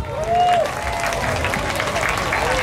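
A concert crowd at a show applauding, a loud dense wash of clapping and cheering, with a voice calling out briefly over the top.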